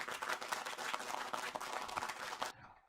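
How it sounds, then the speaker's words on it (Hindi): An audience at a poetry gathering in a Jaipur studio applauding a poet, a quiet, fairly dense patter of clapping that stops abruptly near the end. "मैं आपकी जोरदार तालियों के बीच मैं आमंत्रित कर रहा हूँ संतोष जी"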